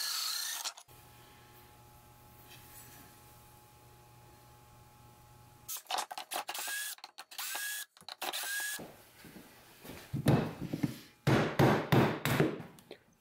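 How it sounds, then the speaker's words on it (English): A power drill whirs in short, strained bursts, grinding and stalling repeatedly while backing out a dusty, corroded lead screw on a router lift, after a quieter stretch of low mechanical hum. "You can see here how much the drill is struggling to get the lead screw out."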